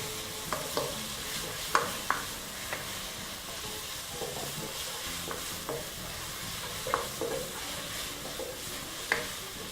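Beef mince frying in a pan for nachos, a continuous soft sizzle with intermittent scraping and stirring clicks from a utensil, fairly quiet and close.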